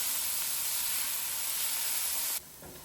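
Onions cook gently in oil for a koftey andey curry, giving a steady, soft broadband sizzle that runs evenly, then drops noticeably quieter near the end.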